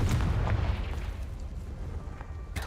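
Bombarda and Confringo explosion spells go off in the Hogwarts Legacy video game: a deep rumbling blast opens and fades over a couple of seconds, then a sharper pop sounds near the end, with no talking.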